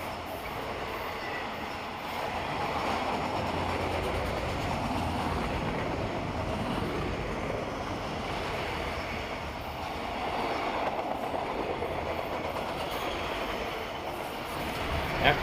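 Norfolk Southern intermodal freight 290, sometimes carrying a cut of auto racks, rolls past on the NS Greenville District, a steady loud rumble of wheels and cars with clicking joints for over fifteen seconds.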